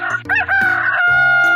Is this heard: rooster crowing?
yes